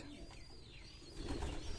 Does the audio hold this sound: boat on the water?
no